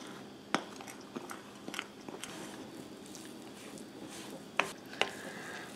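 A spoon stirs spice cake mix cookie dough in a bowl, making quiet, close, sticky scraping and thumping with a few sharper knocks against the side, scattered irregularly over several seconds.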